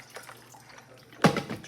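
Water is poured into a baking pan while lemonade is being made. It starts with a few light drips, then comes one louder splash of water near the end. The clip is short, close and quiet.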